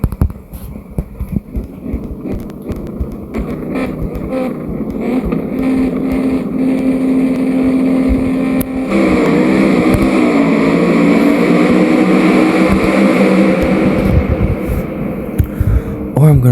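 A gasser drag car's engine revs hard and drones at the launch, its loud throbbing roar swelling midway and holding steady with a rough, wind-buffeted edge.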